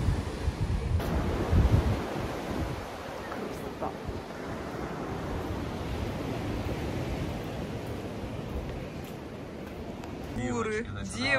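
Sea waves wash in and out under strong wind during a small storm, a steady broadband roar with gusty buffeting on the microphone and a voice near the end.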